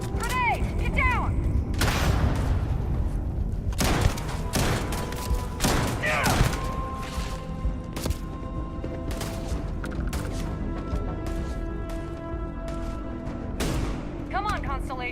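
In the video game Starfield, a grenade blast and bursts of gunfire ring out in loud, sharp, repeated cracks and thuds over a rumbling background, with voices shouting between the shots.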